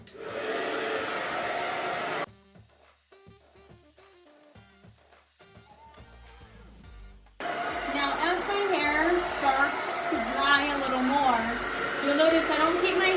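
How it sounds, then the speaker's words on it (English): A hair dryer blows hair dry with a steady, close rushing whoosh. It runs at the start, cuts out for a quiet stretch with music, then returns under a voice talking. "And then we blow dry."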